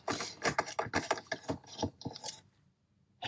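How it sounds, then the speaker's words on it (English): Screws being removed from an Equinox Colour Raider radio, giving a run of small clicking, ratcheting and scratching sounds close by, then a brief quiet gap before another click. "So start off by removing the screws."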